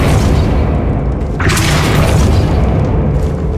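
Confringo blasting spell going off in Hogwarts Legacy, a loud booming explosion with a bright crackling burst midway, set over constant dense game rumble and effects.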